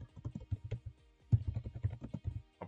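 Computer keyboard keys clack in quick, uneven bursts as someone types a return and refund request for an online shopping order; close and crisp with a short pause midway, no talking.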